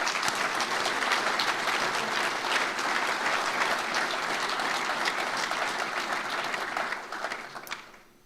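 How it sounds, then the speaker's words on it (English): A large audience applauds at a live UK fire and rescue sector event in Newcastle, with dense, steady clapping filling the hall for about seven seconds before tapering off quickly at the end. "Round of applause, please."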